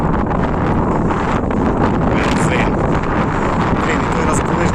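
Strong wind buffets the microphone in a constant, loud roar with gusty rumbling throughout, on a farm field at pumpkin sowing.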